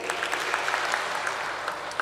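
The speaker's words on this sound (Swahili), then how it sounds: "tumpigie makofi." A church congregation at a Sunday service claps together, a brief burst of moderately distant applause with scattered individual hand claps, sustained evenly over a couple of seconds.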